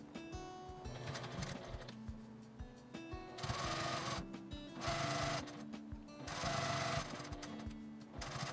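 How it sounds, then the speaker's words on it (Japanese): A sewing machine stitches around a folded fabric strip for a doll's kimono, running in several steady bursts of rapid mechanical needle chatter separated by short pauses. "この折った状態で周りを縫います。"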